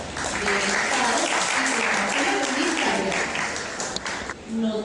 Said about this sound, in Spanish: démosles un aplauso de bienvenida a nuestros invitados